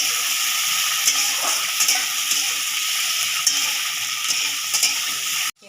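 Tomato and onion fry in a pan over high heat, a loud steady sizzle with occasional clicks of stirring that runs unbroken before cutting off abruptly at the end.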